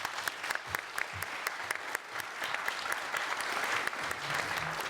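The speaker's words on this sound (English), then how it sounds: "one last round of applause for our candidates" A sustained round of applause from a crowd fills the hall for candidates at a chamber of commerce all-candidates debate, dense and even throughout with no speech over it.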